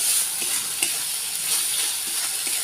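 Ground spices with chilli powder, turmeric and salt are stirred in a hot pan, giving a continuous hiss and sizzle with soft scraping strokes of the spoon throughout.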